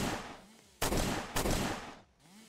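Weapon fire in the Roblox game Zombie Rush comes as a dense, noisy crackle that jumps into two loud, close bursts before fading.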